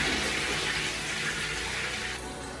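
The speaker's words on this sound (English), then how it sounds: "I'm going to give the toilet a big flush now" A newly installed toilet in a refurbished ensuite bathroom is flushed, giving a close, rushing gush of water that tapers slightly toward the end as the bowl refills.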